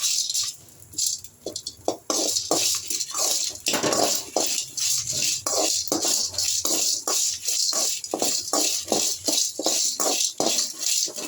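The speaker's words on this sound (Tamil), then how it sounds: "மிளகா அப்படி நல்லா சத்தம் கேட்குங்க, கலகலன்னு சத்தம் கேட்கும்." Dried red chillies rattle and crackle continuously while dry roasting in a hot pan, a dense, busy patter of small dry taps with no talking.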